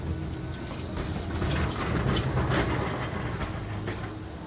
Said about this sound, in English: So I'm going to take a tram to get me up to Bispham now.